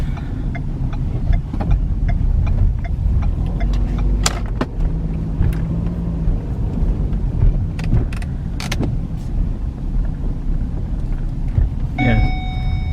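A Ford Fusion after an outer tie rod end replacement drives along a road with a steady engine and tyre drone, small rattles and ticks over it, and a brief chime near the end.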